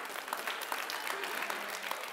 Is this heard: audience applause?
yes